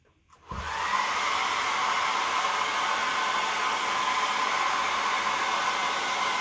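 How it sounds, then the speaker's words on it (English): A hair dryer switches on after a brief moment of quiet and blows steadily, a loud continuous whooshing hiss that holds unchanged to the end. "we're going to do the old hair dryer again"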